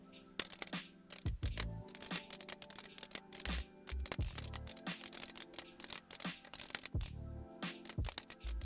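Typing on a BBC Master 128 computer keyboard: quick, uneven clicking keystrokes close by, with occasional heavier key thumps and brief pauses between bursts.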